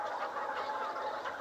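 Layer chickens in a chicken shed, a dense chorus of many hens clucking and murmuring together, steady and moderately distant.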